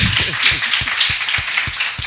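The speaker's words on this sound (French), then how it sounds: "Ça s'applaudit, s'il vous plaît." Storytelling event audience hand claps ring out in a steady, fairly quick rhythm, loud and close, with a faint high hiss of room noise behind them.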